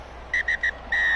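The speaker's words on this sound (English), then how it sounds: "And in fact, the whistle blows," A referee's whistle in the Rugby Challenge 3 game sounds three short sharp blasts, then a longer final blast, loud and clear over low crowd noise.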